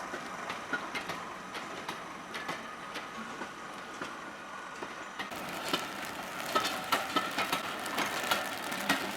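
A Class 73 electro-diesel locomotive runs on a heritage steam railway, a steady mechanical drone with regular clicking beats that grows louder and busier partway through.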